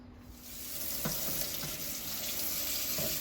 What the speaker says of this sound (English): I always wash up under hot running water.